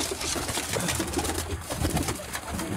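A Teddy pigeon at a loft cooing in soft, repeated low calls, close by and clear, with no talking.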